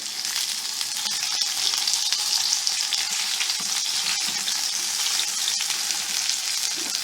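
A Peshawari chapli kabab frying in a pan after being flipped, a dense, steady, bright sizzle that stays even and close throughout, with occasional faint ticks and no speech.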